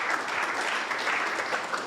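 A team meeting group claps to welcome a new hire, a dense, steady round of applause from several people, fairly close and continuous.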